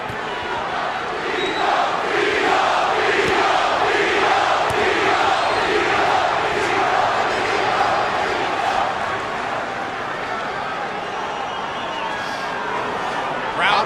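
Boxing arena crowd cheering for Trinidad in his fight against Bernard Hopkins, a dense roar of rhythmic chanting that rises and falls steadily, with a commentator's voice running over it.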